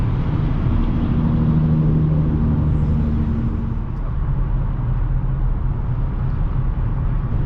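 A Buick Encore's engine hums at a steady drone while it eases onto the throttle to pass on a road trip, with a continuous rumble of road and wind noise from inside the cabin and no speech.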